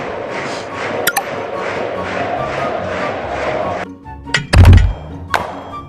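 A ball is struck in the mobile football game Soccer Stars, giving one solid, hollow thunk near the end. Steady crowd ambience and game music run underneath, with a couple of short pings around it.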